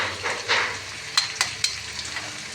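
Eggs hitting a hot pan for egg bhujia curry set off a hissing sizzle that settles into a few crisp pops and crackles, heard up close without any talking.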